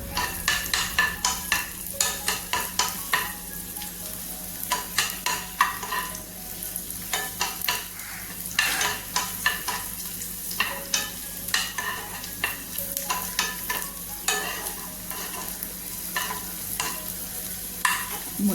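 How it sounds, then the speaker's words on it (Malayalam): Raisins being tempered in hot ghee in a pan for a dal curry, a continuous close sizzle broken by repeated scraping stirs and light clinks of a utensil against the pan, with no one talking. "ഇതിലേക്ക് നമ്മൾ ഉള്ളിയൊന്നുമല്ല താളിക്കുന്നത് രണ്ട് ഉണക്കമുന്തിരിയാണ് താളിക്കുന്നത്"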